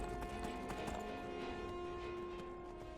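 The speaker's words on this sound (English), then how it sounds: "we will go for a pleasant horsey ride here through the countryside" A horse gallops in the video game Skyrim, its hooves clip-clopping in a quick, steady rhythm over a faint musical drone, fairly quiet throughout.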